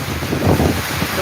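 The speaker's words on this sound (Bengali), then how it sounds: "কেমন কি পরিমাণ বাতাস বুঝুন?" Strong Kalbaishakhi storm wind at night in Sylhet, a steady close roaring rush with low rumbling gusts through the brief moment, no voices.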